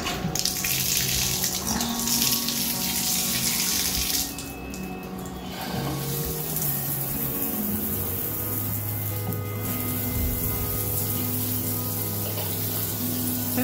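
Water streams steadily from a tall hotel shower head in a Holiday Inn Express bathroom in Galveston, a continuous close hiss and splash at moderate pressure throughout, with no talking.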